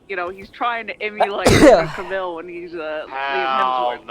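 One sharp, forceful sneeze bursts out in the middle of a man's casual conversation, with talking just before and right after it.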